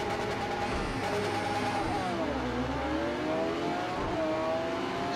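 A Lamborghini Veneno hypercar races at Imola in Project CARS 2, its engine droning steadily, then dipping and climbing in pitch as the gears shift, loud and continuous with no talk over it.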